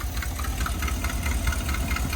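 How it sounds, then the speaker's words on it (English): A car engine idles steadily with a leaking exhaust at the Y pipe, giving a continuous low rumble with rapid ticking puffs layered over it, close and fairly loud, with no voices. "The noise you hear is this exhaust leak."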